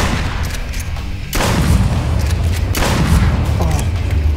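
Gunfire in the Duck Season virtual reality game, heavy booming shots at about one-and-a-half-second intervals, each with a long rumbling tail over constant background noise.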